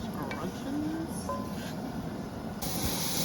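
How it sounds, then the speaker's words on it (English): A steady hiss of pork fat sizzling in a hot pan while making fish chowder, with faint clinks and a brief louder spray of crackle toward the end. "Ooh, hear that sizzle."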